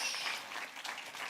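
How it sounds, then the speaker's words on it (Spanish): Church congregation applauding in a sermon, a short, fairly faint burst of dense clapping heard alone. "Den un aplauso fuerte a nuestro Dios."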